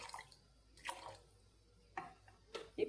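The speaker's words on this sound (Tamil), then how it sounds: "நமக்கு தேவையான தண்ணியும் ஊற்றிக்கலாம்." Water poured into a bitter gourd curry with tamarind water, heard as a few sparse, light splashes and drips close by, separated by quiet gaps.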